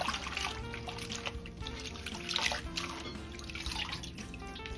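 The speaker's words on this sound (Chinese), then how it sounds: "接着把韭菜放入水中清洗干净" Chives are washed in water, with soft trickling and dripping plus gentle splashes that sound close and fairly quiet.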